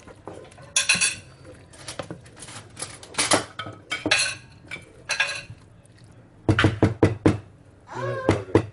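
Squid stew (caldeirada de lulas) stirred in a pot, giving repeated close knocks and clinks of a utensil against metal in irregular bursts, with quieter gaps between.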